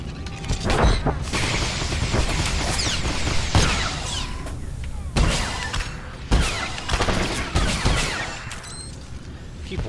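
Sniper shots in the Star Wars: The Old Republic video game, heard as repeated sharp blasts over a dense, noisy battle din with crashes and booms throughout.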